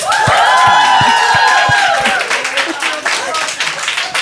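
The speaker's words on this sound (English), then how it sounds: "and one second one round of applause for women please" During a live comedy show, a crowd gives a round of applause for the women present. Scattered, distinct claps and excited cheering ring out under loud talking, then thin away as the voices carry on.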